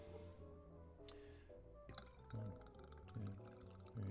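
Sazerac rye whiskey pours into a glass for a cocktail, a quiet liquid glug and trickle with a few faint drips and soft clinks, heard close and alone.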